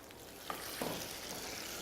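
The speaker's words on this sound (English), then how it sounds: "hear that sizzling" Quiet, continuous sizzling of a hot dog frying in hot oil, a soft crackling hiss with a few small pops, close and undisturbed by talk.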